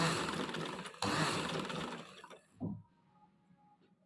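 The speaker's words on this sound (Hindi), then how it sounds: "अब ये देखें सिंपली हम जो है वो इस तरह से राउंड में सिलाई लगा देंगे।" A sewing machine runs steadily, stitching in a round around a placket neckline on a garment, loud and continuous for about two and a half seconds before stopping, followed by a brief soft thump and near quiet.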